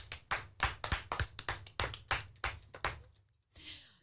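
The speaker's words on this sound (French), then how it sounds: "On l'applaudit bien fort" A few people clap at a school radio club recording at Collège-Lycée Saint Joseph in Nay, producing roughly a dozen sharp, distinct claps in quick succession before a brief pause and a fading rustle.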